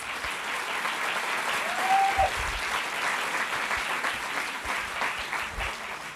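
A church congregation applauds with steady, dense clapping that carries on without a break, loud and close, with faint voices mixed into the crowd noise.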